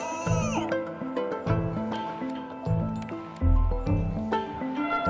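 A cat in the puzzle game Machinarium lets out a series of repeated, drawn-out meows, clear and close, each cry rising and falling in pitch with brief gaps between them.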